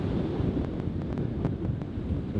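Strong wind of around 25 knots from behind a sailing boat at sea buffets the microphone in a steady low roar, with faint thin clicks and some wave wash beneath.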